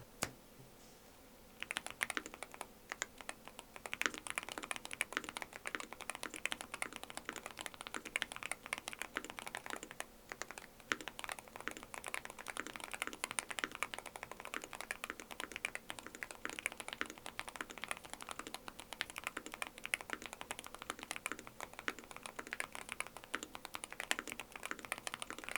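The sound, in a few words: typing on Boog75 magnetic switch keyboard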